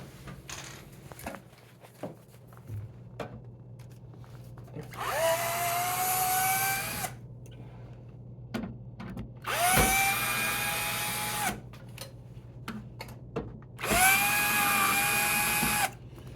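A power drill backs screws out of a PowerPak cover in three separate bursts of rising whine, each a couple of seconds long, with small clicks and handling noises between them, close and fairly loud with no speech.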